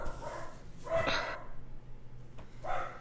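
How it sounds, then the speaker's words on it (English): Dogs barking in short bursts, a few sharp barks spaced across a few seconds, moderately near over a low steady hum, with no talking. "What are they barking at?"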